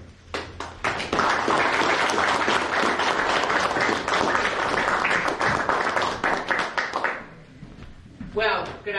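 An audience at a Bar Island history talk gives a long, full round of applause to welcome a speaker, steady for about seven seconds before fading out, with a voice beginning to talk near the end.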